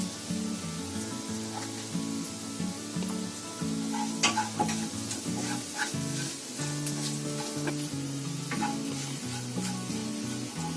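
Spices and a pinch of asafoetida fry in about a spoonful of oil in a pan, giving a steady close sizzle with occasional stirring scrapes, and a low tonal hum runs underneath throughout.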